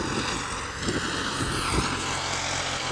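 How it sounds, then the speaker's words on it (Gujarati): A tractor with a cutter runs in a farm field, its steady low engine drone and mechanical hum continuous and fairly close, with no break in the noise. "અને કટર ચાલુ છે"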